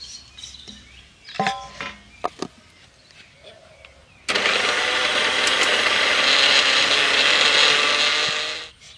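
A mixer grinder starts suddenly and roars loudly, whirring dried potato pieces into fine powder for about four seconds before stopping, after a stretch of quiet handling clatter and taps.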